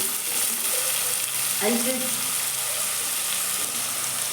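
Tomatoes fry in hot oil with cumin and mustard seeds, giving a steady, loud sizzle with a brief stirring scrape partway through and no speech.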